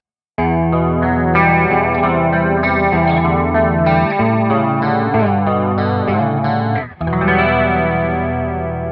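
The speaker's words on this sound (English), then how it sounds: "I ended up getting the CE2 chorus pedal, which looks like this." Clean electric guitar played through a Boss CE2 chorus pedal, sustained shimmering chords with a wavering, doubled tone, loud and continuous throughout with a brief dip near the end before ringing on.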